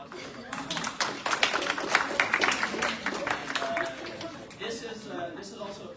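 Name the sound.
applause in a senate meeting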